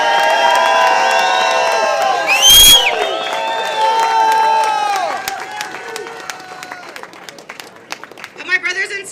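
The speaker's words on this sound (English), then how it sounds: "So give yourself a round of applause." An audience at a San Francisco press conference erupts in cheering, whoops and scattered clapping, with bright shouted voices layered over applause that gradually fades and thins out.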